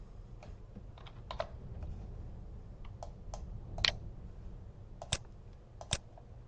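Keyboard shortcut keys are pressed on a computer keyboard, making scattered, crisp clicks at an uneven pace, some single and some in quick pairs, close and clear over a quiet room.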